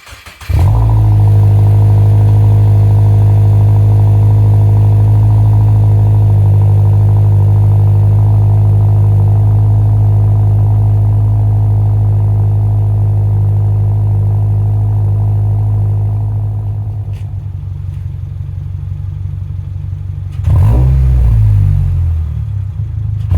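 A 2022 Subaru WRX fitted with an Invidia Gemini R400 exhaust idles with a steady, deep rumble for about twenty seconds, then gives a short rev near the end before settling back.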